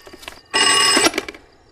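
A telephone in a home rings in one loud, sustained electronic trill lasting about half a second, preceded and followed by quieter room sounds.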